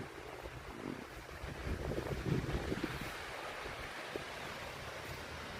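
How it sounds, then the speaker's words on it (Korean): Soft ocean surf washing in with a gentle swell and retreat, mixed with steady wind rumble; no voices. "파도 소리도 좋다"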